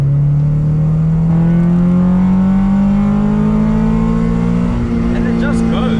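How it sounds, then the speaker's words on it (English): Honda Civic with a B20 VTEC engine revving hard, one loud continuous rising engine note climbing through the VTEC crossover and turning harsher and louder, heard close from inside the car. "Let's do a VTEC crossover for you to hear what it sounds like."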